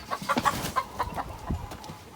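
Chickens cluck in a chicken run, a quick string of soft, close clucks and short calls over about two seconds, with no talking.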